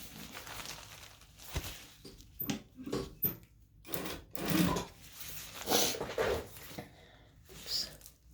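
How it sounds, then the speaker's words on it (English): A sewing machine stitching binding onto the edge of a shade, running in short irregular bursts of rapid whirring stitches separated by pauses and faint handling noises, close up. "we're just going to start sewing"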